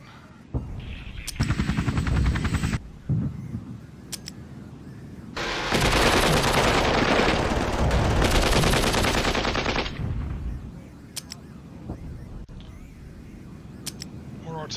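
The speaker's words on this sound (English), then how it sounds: "More artillery support. Followed by some tank fire." Cold War strategy video game artillery and tank fire, bursts of loud booming and rattling gunfire broken by gaps, with a long heavy barrage in the middle and a voice speaking over parts of it.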